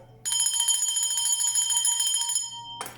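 Bell struck once, ringing with a bright sustained metallic tone that holds for about two seconds before fading, then a second strike begins, close and clear.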